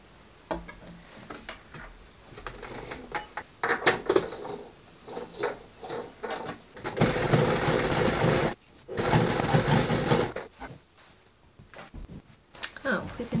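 A home sewing machine stitches jeans with normal thread and a standard presser foot, running in short bursts and then longer steady runs of close mechanical whirring and ticking, with brief pauses and quiet handling noises in between.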